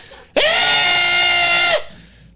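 A voice imitates an old, crippled dog screaming, one loud sustained strained wail lasting over a second, close and alone, then cutting off.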